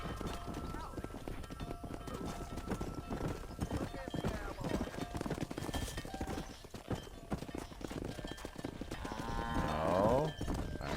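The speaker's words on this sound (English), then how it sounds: "Herd the cows down the road." Cows and horses being driven along a road by riders, with steady hoof clip-clop and occasional animal calls under continuous shouted talk, rising to a louder burst near the end.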